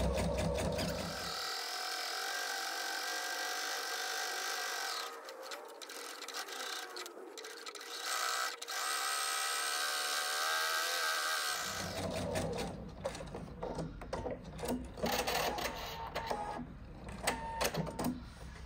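A sewing machine runs a long, steady top stitch around the edges of a lined apron, then shifts into a looser, uneven mechanical clatter, with no one talking.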